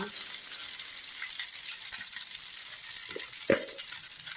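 Okra (ladies finger) frying in oil in a pan, a soft continuous sizzle with a few brief utensil clinks and scrapes near the end, fairly quiet and without talking.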